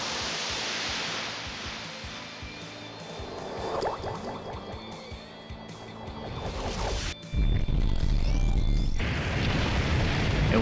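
A nuke spell detonates in the role-playing video game Grandia II, a rising whooshing, bubbling build-up with swirling effects that breaks into a loud, sustained roaring blast near the end, no speech over it.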